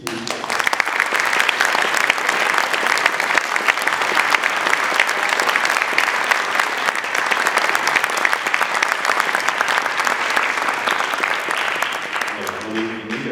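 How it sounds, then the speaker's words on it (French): Sustained audience applause at a school evening event, dense and loud clapping from a large crowd carrying on evenly before tapering off with a voice near the end. "Et je voudrais donc applaudir."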